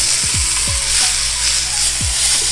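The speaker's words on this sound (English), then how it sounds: "It's time to sear the edges." The edges of a Santa Maria-style chuck roast sear in a hot pan with a strong, continuous sizzle, broken by a few low thumps as the meat is moved and pressed.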